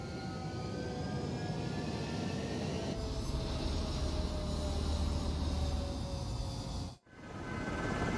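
Fighter jets roaring for takeoff on a runway in the combat flight video game Ace Combat 7, a loud sustained engine whine and rumble with rising tones that cuts out abruptly and returns.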